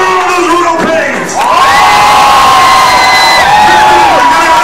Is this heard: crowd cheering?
yes